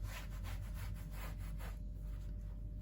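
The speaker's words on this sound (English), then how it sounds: "I'm going to put some back and rub a little lighter." Rough, rhythmic rubbing strokes of a rag working glaze into raised Anaglypta wallpaper, several brisk back-and-forth passes close by that stop abruptly partway, leaving a quieter background.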